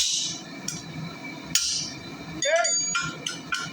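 A blacksmith's hammer strikes hot steel on an anvil to split it: half a dozen sharp, ringing blows spaced irregularly over a quiet room tone.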